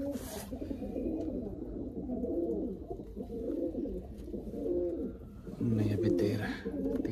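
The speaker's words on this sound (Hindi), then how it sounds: "अभी सिर्फ हमारे पास यही पिजन्स रह गए हैं" Pigeons in a loft coo close by in deep, rolling, repeated calls that overlap and carry on through the whole stretch. Faint background noise sits underneath, and no one speaks.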